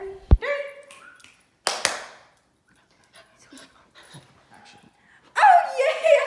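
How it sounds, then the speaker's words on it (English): A dog whimpers and yips in a few short bursts, with panting, faint whines and a sudden sharp bark-like sound, close up, separated by near-silent gaps. "I found a totally not evil dog!"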